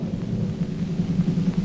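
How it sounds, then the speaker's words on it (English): Explosions of firedamp gas in an old coal mine: a deep, continuous low rumble rolling on for the whole stretch with swelling pulses, loud and close, with no talking. "Men and workings were destroyed by one explosion after another."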